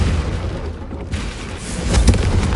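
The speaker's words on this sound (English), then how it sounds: "a Confringo cast travels a bit farther than that of a spell like Descendant" A Confringo fire spell from Hogwarts Legacy bursts in a deep booming blast over a rumbling backdrop, with a sharper second impact near the end and no voices.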